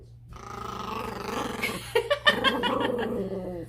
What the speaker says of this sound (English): Let's see if I can get the dog in.